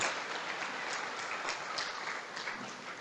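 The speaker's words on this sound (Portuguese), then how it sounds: "Agora eu quero pedir para que você levante um aplauso a Ele" A church congregation applauds in a steady, soft wash of many hands, somewhat distant and even throughout, with no voices standing out.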